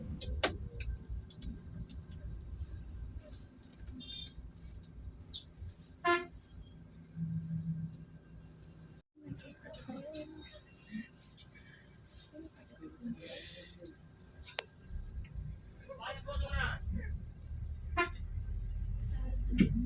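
The telolet musical horn of a Bintang Asri luxury bus toots in short, fairly distant bursts over steady road rumble and engine noise, with people talking nearby.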